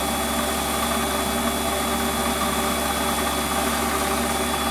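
A Warco metal lathe runs at about 1,000 RPM, giving a steady, loud mechanical hum and whir that continues unchanged throughout, with no voices.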